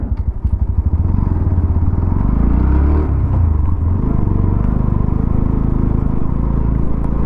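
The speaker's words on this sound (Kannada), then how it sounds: "ಇಂಜಿನ್ ಸೌಂಡ್ ಈ ಥರ ಕೇಳಿಸುತ್ತೆ, ಎಕ್ಸಾಸ್ಟ್ ಸೌಂಡ್ ಈ ಥರ ಕೇಳಿಸುತ್ತೆ." A 2025 Bajaj Pulsar NS125 motorcycle with ABS runs close up, its engine and exhaust giving a loud, throbbing rumble with a brief rise in revs before it settles back into a steady, chugging beat.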